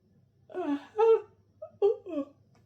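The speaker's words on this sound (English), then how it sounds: "Excuse me for yawning at you all." A person yawns up close, a drawn-out voiced moan that rises and falls, followed by a couple of short vocal sounds trailing off in a quiet room.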